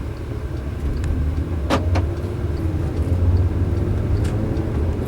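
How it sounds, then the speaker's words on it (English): A 2012 Volkswagen Passat SE with a five-cylinder engine hums steadily from inside the cabin on a test drive, a low continuous engine and road rumble with a couple of faint clicks. "The 5-cylinder engine is very torquey too."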